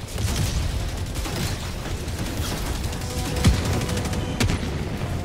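Mortar rounds strike in a video game, two heavy thumping blasts about a second apart over a constant rattle of battle noise.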